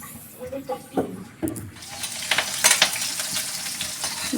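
Onions sizzle and fry in very hot oil as they are stirred in a home kitchen pan, the hiss swelling louder partway through, with people talking nearby.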